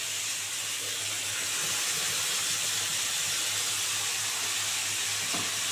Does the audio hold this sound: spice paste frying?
yes